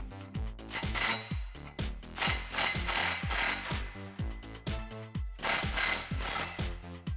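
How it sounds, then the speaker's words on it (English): A ratchet socket tightens the exhaust clamp on a 2018-2019 Mustang GT cat-back exhaust, with rapid repeated clicking strokes in a steady back-and-forth rhythm, close and clear. "grab your socket and tighten down the clamp"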